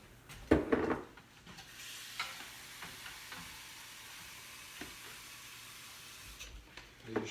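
Homemade Spanish rice stirred in a pan, giving a low steady sizzle with a few scraping clacks of utensil against the pan, louder in a brief burst near the start.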